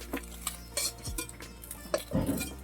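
Fried prawn fritters are lifted from a pan with a metal utensil, giving a series of irregular scrapes, clinks and taps against the cookware, close and moderately loud.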